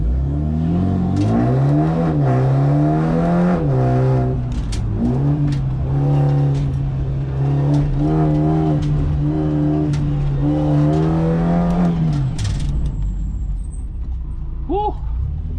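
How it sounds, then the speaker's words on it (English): A modified car is driven hard through turns on a test track, its engine droning loud and close with rising and falling revs as it shifts, then fading toward the end. "The car is so planted through those turns."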